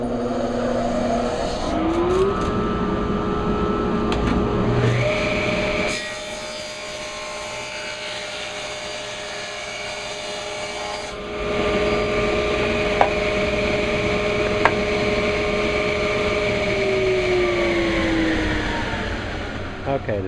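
Woodworking machine running a board through at a set thickness of 10 5/8, a loud steady whine whose pitch rises and then holds, with a quieter gap midway before the load returns, ending in a few sharp clicks.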